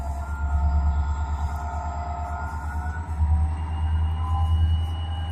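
A Norfolk Southern locomotive, engine #304, idles loudly in a rail yard, a deep throbbing diesel rumble with a pulsing rhythm and faint high whine, close and steady with no talking.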